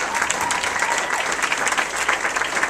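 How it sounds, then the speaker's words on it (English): An audience at a business event in Southern California claps in sustained, dense applause, a steady crackling wash of many hands from a crowd. "Give these guys a big round of applause, everybody."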